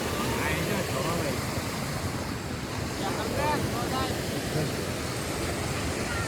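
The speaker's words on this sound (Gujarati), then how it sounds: "કેવું પાણી હાલે જાય અવાજ કેવો આવે છે" Floodwater rushes down a swollen village river during a heavy storm, a dense, unbroken roar of churning water buffeted by wind noise, with faint voices talking underneath.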